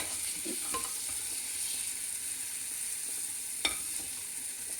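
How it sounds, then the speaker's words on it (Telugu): Tomato pulp frying in a pan while radish chutney is cooked, giving a steady, soft sizzle throughout with a couple of brief stirring clinks and scrapes, and no voices. "ఈ గుజ్జు ఇవి కొద్దిగా వేగనివ్వాలి"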